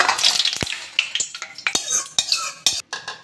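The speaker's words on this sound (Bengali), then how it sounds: "তেলটা ঢেলে নেব।" Hot oil for a Bengali chilli pickle is poured amid close metallic clinks and scrapes of a pan and utensils, with a light sizzle under a busy run of sharp kitchen clatter.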